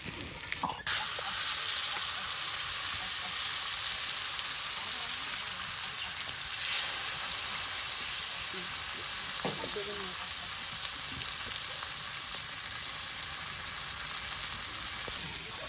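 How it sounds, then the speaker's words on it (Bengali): Pieces of large grass carp fry in hot oil in a village kitchen, giving a continuous bright sizzle with occasional soft clinks and spatters, close and steady throughout. "এই যে দেখুন কত সুন্দর করে মাছ ভাজা হয়ে গেল"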